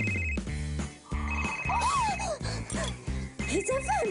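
A telephone rings during a live radio call to a listener in Malaysia, sounding in short, steady electronic bursts over background music.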